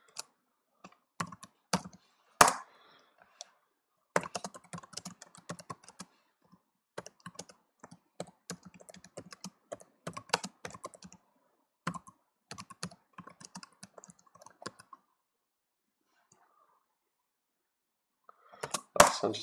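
Bursts of typing on a computer keyboard, with uneven runs of clicks and short pauses between them and a louder flurry of keys at the end. The typing is close and clear, with no talking over it.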